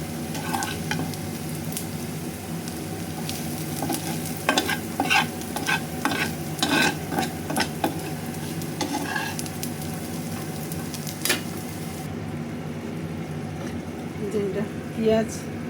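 Onions and garlic fry in oil in a pan on a home stove while being stirred, giving a steady sizzle broken by repeated scraping stirs. A voice talks faintly beneath it.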